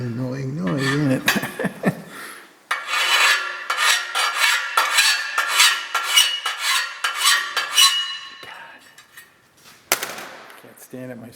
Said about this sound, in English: I'll retap the holes so that the new piece can get added on.